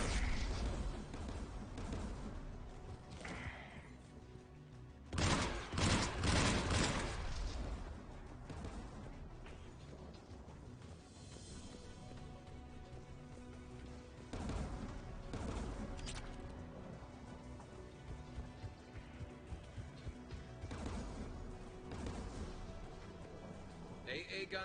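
Gunfire and explosions in combat in the video game Mass Effect 3, a long, dense stretch of shots and blasts with loud bursts now and then, while people talk over it.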